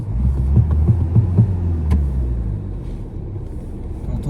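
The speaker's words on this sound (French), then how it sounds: "T'entends ce ronronnement de moteur là?" A car engine idles with a low, steady purring rumble, close and continuous, with a faint rhythmic throb in the first seconds before it settles into an even hum.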